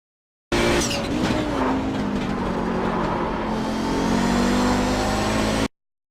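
An Audi 90 GTO race car in the iRacing sim, threshold braking into a corner at Mid-Ohio. The engine drones loudly and steadily, with a downshift and the revs easing as the car slows. No voices.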